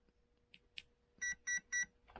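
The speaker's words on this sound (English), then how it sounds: "Just give some beeps, let you know what's happening, counts your cells" A few soft electronic chirps, then three evenly spaced, louder beeps in quick succession from a close, quiet device: a Hobbywing Quicrun Crawler brushed 80A electronic speed controller powering up and counting battery cells.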